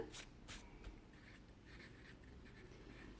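A teacher handwriting a word in a French primary-school lesson, giving faint, close scratchy strokes of writing in short bursts with soft shuffling, no talk.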